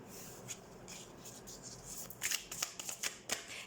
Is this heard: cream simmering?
no